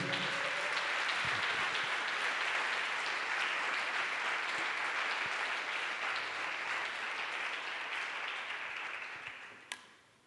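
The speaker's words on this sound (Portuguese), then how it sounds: "Você pode aplaudir o nosso Deus eterno?" Congregation applauding at a church family celebration service, a broad, steady wash of clapping that fades gradually toward the end, fairly distant and soft.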